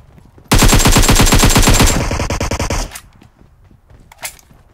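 Rapid automatic QBZ rifle fire in PUBG Mobile rattles out in a loud, sustained burst for over two seconds, then cuts off, with faint game ambience afterward.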